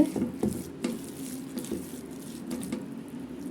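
Maggi noodles are mixed with cornflour and chopped coriander by hand or spoon, giving soft, quiet, irregular squelching and tapping strokes at close range.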